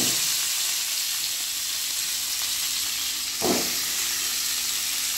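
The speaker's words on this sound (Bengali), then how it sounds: "এবারে আলু ফুলকপি ভাজতে হবে" Potatoes and cauliflower frying in a pan in a village kitchen give a steady, loud sizzle and hiss, with one brief stir or shift of the vegetables partway through and no talk.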